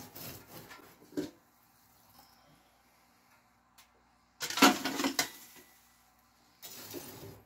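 A small shovel scrapes and scoops hot ash inside a wood stove, a few gritty metallic scraping bursts between quiet gaps.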